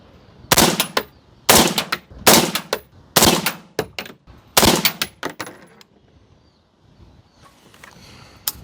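A suppressed AR-15 with a 13.7-inch barrel fires a string of 77-grain rounds outdoors: five or so loud, sharp reports spaced about a second apart, each with a short echo, then quiet.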